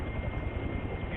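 Helicopter in flight on a military Marine mission, a loud continuous rotor and engine rumble heard close up from inside the cabin with no breaks.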